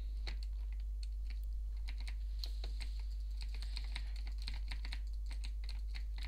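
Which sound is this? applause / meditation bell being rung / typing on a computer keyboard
typing on a computer keyboard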